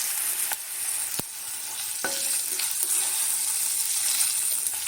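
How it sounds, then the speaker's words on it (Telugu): Dried red chillies and fenugreek seeds fry in hot oil for tomato pickle, giving a continuous bright sizzle broken by a few sharp pops and clicks of a utensil. "ఎండుమిరపకాయలు వేసేసుకొని అవి మెంతులు అవి వేగాక స్టవ్ ఆఫ్ చేసేసుకుందాం."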